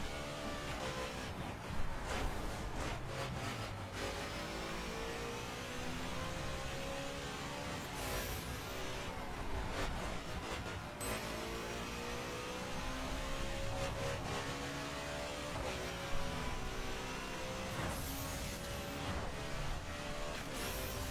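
A car driving and accelerating, engine revving up and down in sustained rising and falling tones with brief bursts; no talk.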